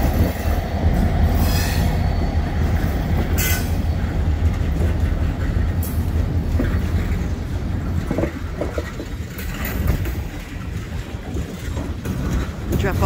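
Southbound freight train 608 pulls out of Willimantic, a heavy rumbling roll of railcars with wheel squeal and occasional clatter, loud and close throughout, with faint voices in the background.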